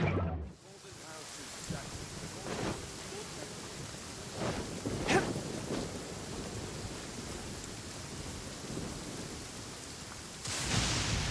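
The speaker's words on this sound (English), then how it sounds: "Before the resounding thunder." Heavy rain hisses steadily while deep thunder rumbles and rolls through it, with a few louder cracks rising out of the downpour.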